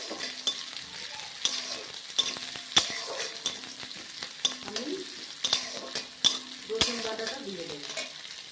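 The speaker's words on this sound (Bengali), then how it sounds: "তারপর আমি সবজিগুলো দিয়ে ভালোভাবে ভেজে নেব" Vegetables fry in a pan with ginger and garlic paste for a Bengali Shankar fish oil-bowl chachchori: a steady close sizzle with frequent sharp clicks and scrapes of a spoon stirring against the pan.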